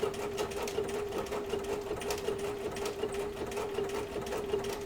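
A sewing machine stitches a dense appliqué edge along red and green fabric on a poppy quilt, a steady, close, rapid hum with no breaks.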